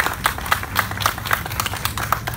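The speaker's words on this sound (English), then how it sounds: "Yes, please give them a round of applause." Audience applause at a car show press conference: steady, fairly loud clapping from a crowd, with sharp claps standing out in an uneven rhythm across the whole stretch.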